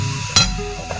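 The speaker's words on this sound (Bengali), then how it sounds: "এখন নেড়েচেড়ে কষিয়ে নিচ্ছে।" Spiced banana blossom curry sizzles softly in a pan as it is stirred, with one sharp scrape or clink of the spoon and a fainter knock near the end.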